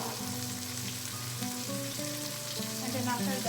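Marinade poured into a pan of sizzling pan-fried chicken for pininyahang manok gives a steady, loud frying hiss with constant crackle throughout, and a faint musical backdrop sits beneath.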